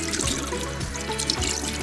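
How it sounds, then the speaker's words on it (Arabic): Water poured gradually from a tap into a deep container of liquid dish soap mixture made from paste and powder, a steady close running and splashing flow with slight bubbling throughout. "ونضيف عليه 6 لتر ماء بالتدريج، ونقلب كويس لحد ما يتجانسوا"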